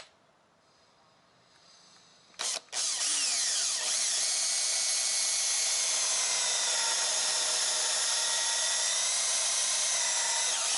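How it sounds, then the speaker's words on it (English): A cordless drill with a step bit whirs up loudly after a brief clatter and keeps spinning steadily, its high whine grinding through thick plastic of a foamer. "just going to use my step bit on my cordless drill here"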